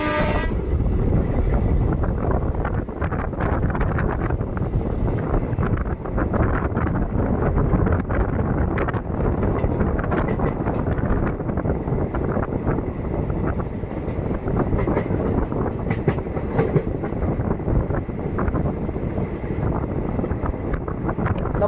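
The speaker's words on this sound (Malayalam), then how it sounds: "നമ്മുടെ എറണാകുളം ലോക്കോ ഷെഡിൻ്റെ ഒരു WDG-3A ലോക്കോയാണ് നമ്മുടെ ഈ മലബാർ എക്സ്പ്രസ്സിനെ ഇപ്പോൾ ഷണ്ട് ചെയ്ത് കൊണ്ടുപോയിക്കൊണ്ടിരിക്കുന്നത്" The Malabar Express, hauled by a WDG-3A diesel locomotive from the Ernakulam loco shed, rumbles steadily along the rails with loud, continuous wheel roar and rhythmic clatter, heard close with some wind buffeting.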